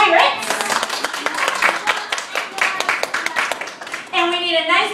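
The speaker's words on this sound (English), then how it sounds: "We need a giant round of applause for our pirates." Dense clapping from a crowd at a Disneyland storytelling show fills several seconds, steady and lively, with a voice briefly speaking over the end.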